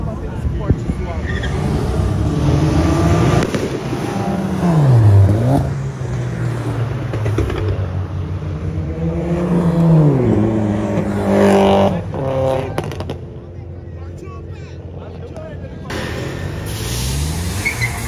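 A Toyota Supra's six-cylinder engine revs repeatedly on a São Paulo avenue, its pitch rising and falling in loud sweeps close by, with people talking over it.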